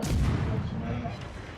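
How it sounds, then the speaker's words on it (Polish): A heavy video game explosion during a ship attack booms loudly at the start, then its deep rumble slowly fades away. "O, wybuch."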